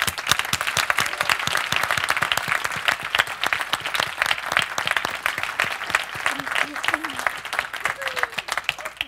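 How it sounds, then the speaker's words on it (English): A live panel-event audience claps continuously and loudly as a panelist walks onto the stage, a dense steady wash of applause filling the whole stretch. "Clapping, she's still walking."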